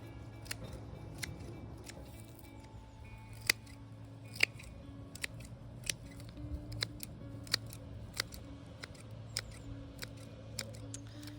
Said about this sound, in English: just cut back all the stems and it makes a much more compact plant.